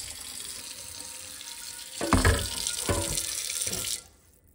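Hot water runs from a tap onto a cast iron skillet in a sink, a steady close splashing that swells and surges midway, then cuts off abruptly near the end.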